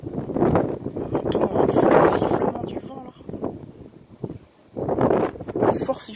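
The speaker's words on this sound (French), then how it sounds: "Fort sifflement du vent là." Strong storm wind whistling at 75-80 km/h in Le Mans, France, roars in surges, easing in the middle then rising again, with faint rattling and rustling.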